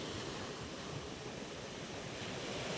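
Sea waves breaking against the eroding shore at Bucana beach near resorts and a river mouth, a continuous broad roar of surf with wind, steady and fairly close, no voices.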